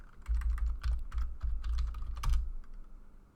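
Fingers type on a computer keyboard in quick bursts of close, crisp key clicks with brief pauses between them, no voices.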